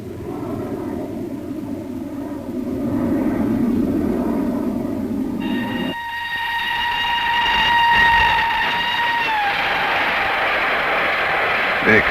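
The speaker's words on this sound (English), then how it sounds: "They come by train" A train pulls into Aberdeen, Scotland, in the 1950s: a low rumbling run of wheels and carriages, then a sustained, loud horn or whistle with steady tones that holds for several seconds and blends into continuing rail noise.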